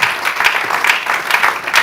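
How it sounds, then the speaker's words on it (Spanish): Church congregation applauding the Lord during a sermon, a dense, steady wash of many hands clapping close by with no voices over it. "Dale fuerte el aplauso al Señor"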